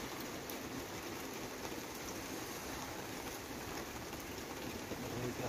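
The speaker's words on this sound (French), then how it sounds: "Le problème, c'est que là, il pleut." Rain falls steadily outside, a dense, even hiss of drops on surfaces that stays fairly quiet and unbroken throughout, with no voices over it.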